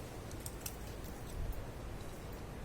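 Scissors snipping the top off a lavender stem, a few faint, crisp clicks of the blades closing over a quiet background hiss.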